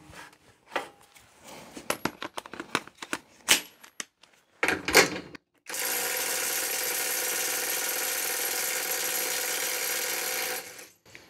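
A fully charged Parkside Performance PPDSSA 12 A1 cordless impact wrench hammers at a car wheel to loosen it. A few scattered mechanical clicks and clanks come first, then a loud, continuous rattling burst runs for about five seconds and cuts off.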